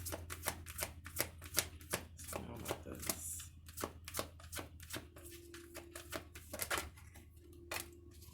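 Energy oracle cards are shuffled by hand in a rapid, steady run of crisp riffles and slaps, close and fairly loud, with no voices.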